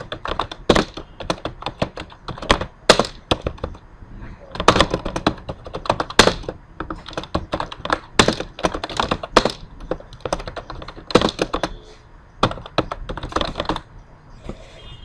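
Typing on a computer keyboard, bursts of quick close clacks and thunks in irregular runs with short pauses, fairly loud and without talk.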